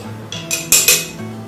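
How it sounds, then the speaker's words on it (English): A metal spoon clinks and scrapes as it stirs cowboy coffee in a pot, giving a brief flurry of bright, close, fairly loud strokes, with no talking. "And then I take the spoon. It's important that you do stir it well."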